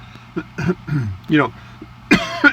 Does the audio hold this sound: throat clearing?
yes